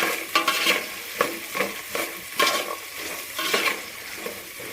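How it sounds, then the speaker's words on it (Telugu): Sliced onions and green chillies fry in a hot pan, sizzling steadily while a spoon scrapes and stirs in regular strokes, loud and close, with no voices. "ఇవి మంచిగా బ్రౌన్ కలర్లోకి వచ్చే వరకు వేగాలండి."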